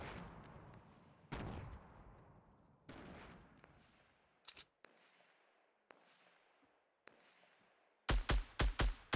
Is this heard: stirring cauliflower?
no